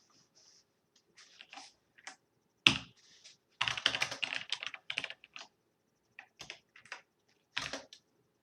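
Typing on a computer keyboard in bursts of clustered keystrokes with short pauses, close and fairly quiet, no voices.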